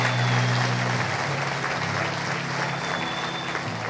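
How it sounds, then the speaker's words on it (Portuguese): Congregation applauding in a church service, a dense wash of clapping that holds steady and tapers slightly over a few seconds, with a sustained musical tone beneath. "Dê uma salva de palmas a Jesus"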